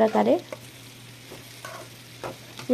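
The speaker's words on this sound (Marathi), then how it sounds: "हे फणस छान असं फ्राय करून घ्यायचं आहे" Jackfruit pieces with turmeric powder and coriander sizzle in a pan while being stirred, a louder burst of scraping and frying at the start, then quieter sizzling with occasional stirring knocks.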